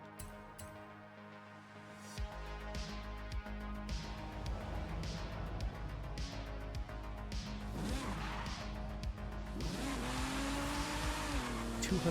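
A 530-horsepower car in Forza Horizon 5 accelerating hard at speed, engine revving through rising gear pulls with repeated shift breaks, growing steadily louder over a constant road roar.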